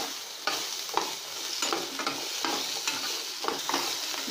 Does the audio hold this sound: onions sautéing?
yes